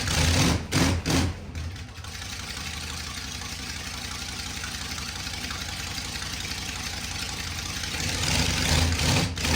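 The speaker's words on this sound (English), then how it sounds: "Started up the car, let it idle for a little bit, probably 2-3 minutes, I guess." A small block Chevy V8 car engine fitted with a four-barrel carburetor idles steadily and loudly close by, a continuous low rumble with a few brief dips near the start and no voices.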